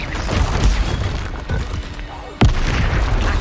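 A Confringo spell explosion in Hogwarts Legacy bursts with a sharp, loud boom, set among other thuds and impacts of spell combat, with a voice talking over the action.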